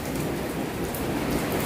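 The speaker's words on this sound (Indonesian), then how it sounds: "Ini kondisinya hujan," Steady rain pours down outdoors beside a die casting factory in Korea, a dense, even hiss of drops hitting surfaces with no pauses, fairly loud and close, and no voices.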